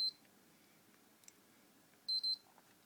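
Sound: PlayStation 3 console beeping once then twice

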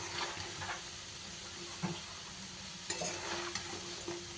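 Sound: kucho goja sweets frying in oil

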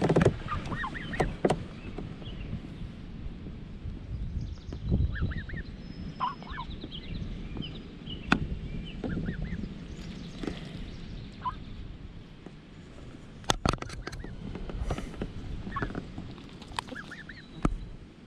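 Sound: young Canada geese

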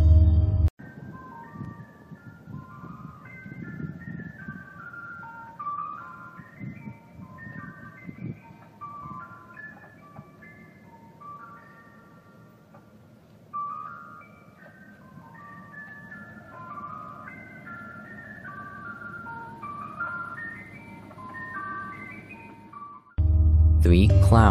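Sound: ice cream truck playing creepy music

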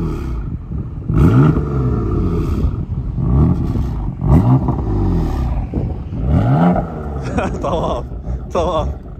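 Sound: BMW M4 engine revving and roaring

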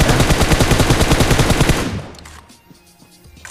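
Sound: gunfire in video game PUBG Mobile

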